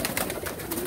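Teddy pigeons coo close by in a short burst of low, throaty warbling, several birds blending together in a dense, continuous murmur.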